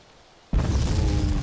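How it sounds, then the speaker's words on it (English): A single satchel charge detonating in the survival game DayZ, in the town of Elektro; quiet at first, then a sudden loud boom with a long rumbling roar that fills the rest of the moment. "from here I can touch off both. Okay. Well, I'm here. Okay, 3, 2, 1, bomb."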